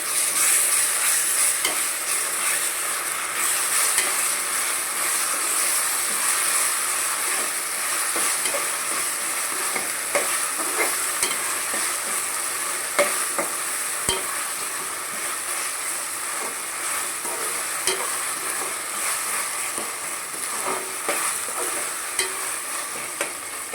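Chicken keema fries in a pan with ginger garlic paste while it is stirred, for a mutton keema and chicken curry. A steady, loud sizzle runs throughout, with scattered scraping stir sounds and no voices.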